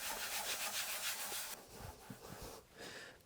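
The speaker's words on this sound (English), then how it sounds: "Quick scrub." A brush scrubs the rocker panels of a 1994 Mercedes C-Class, a close, steady scratchy rubbing that ends partway and gives way to quieter, softer scuffing.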